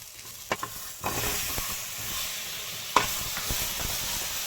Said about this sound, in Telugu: ఇలా 2-3 డ్రాప్స్ ఆయిల్ వేసుకొని వేడి చేసుకోండి. ఇలా ఫ్రై చేసుకోవాలి.